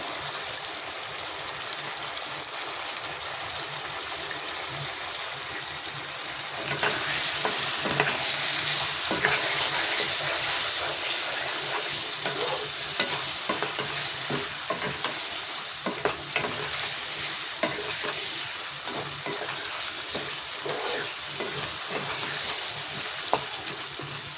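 Spices with turmeric and salt sautéing in a frying pan, a continuous loud sizzle with scraping stirring strokes, intensifying partway through and carrying on steadily with no talking.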